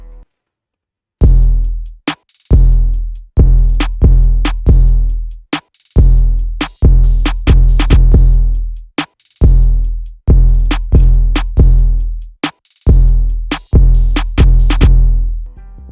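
A punchy hip-hop drum loop with deep booming 808 bass hits, crisp hi-hats and snares, repeating steadily in bars with brief gaps between phrases.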